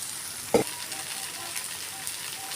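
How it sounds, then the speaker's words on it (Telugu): Oil sizzling steadily under a rava dosa frying on a high flame on a street-food griddle, with a sharp brief burst as fresh oil is poured on, then a constant crackling hiss. "ఇప్పుడు పైనుండి నూనె పోసుకోవాలి"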